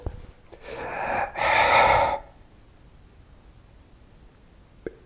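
A man imitates a shooter's sharp gasp and held breath before firing a gun: a quick intake, then a longer loud rushing breath, then quiet until a short sound near the end.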